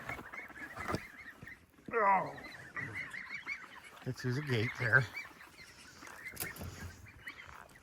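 Geese and ducks in a farm pen at feeding time give several loud, harsh honking bursts in clusters, while a person talks nearby between the calls.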